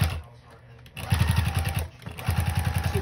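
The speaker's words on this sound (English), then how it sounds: "And then I'm going to just stitch." A sewing machine stitching a seam on a quilt-as-you-go denim blanket, its needle chattering in two close, rapid bursts with a brief stop between, while a person talks over it.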